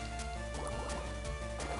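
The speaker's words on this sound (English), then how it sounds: "Water pulse." A splashy, gurgling burst of liquid from the Water Pulse attack in the Moemon video game, steady and fairly loud across the whole moment with no talking over it.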